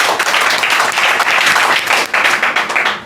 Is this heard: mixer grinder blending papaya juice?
no